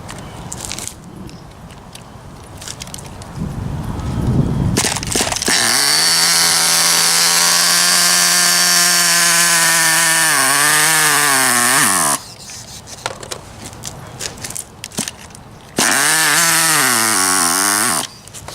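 A Redcat Racing Shockwave nitro RC car engine starts after a few rough attempts, then screams at a loud, steady high idle with a harmonic whine, cuts out briefly, and revs back up close by with no talking.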